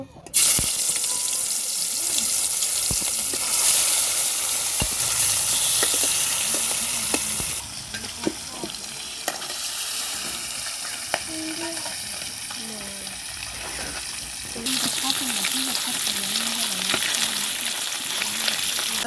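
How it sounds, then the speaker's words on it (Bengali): Pieces of oily silver carp frying in hot oil in a wok, a loud continuous sizzle and crackle with occasional stirring clinks close by. "গরম হয়ে গেছে, মাছটা ভেজে দেব।"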